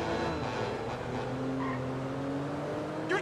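A car tears along recklessly in GTA 5 on PS3 with Michael at the wheel, its engine holding a steady loud drone while tires squeal faintly, ending in a brief sharp burst.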